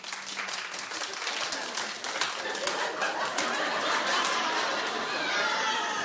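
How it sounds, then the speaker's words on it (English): A talk-show studio audience claps loudly and steadily, the thick applause mixed with chatter and bits of laughter that linger as it rolls on. "Clap if you watch The Bachelorette"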